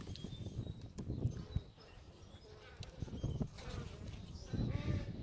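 Bees hum around an opened beehive with a center hive shim, a faint diffuse buzz running underneath occasional handling knocks and rustles nearby.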